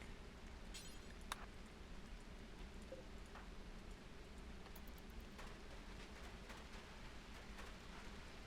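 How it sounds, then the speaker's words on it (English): Steady rain falls in RimWorld, an even wash of drops running continuously throughout with a few faint ticks on top, no voices. "Why are they still getting rained on?"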